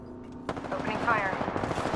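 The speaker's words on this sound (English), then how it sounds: "Opening fire." Rapid automatic gunfire in the battle royale game Apex Legends, a sustained burst of loud, close shots that starts suddenly after a brief quiet moment and rattles on to the end.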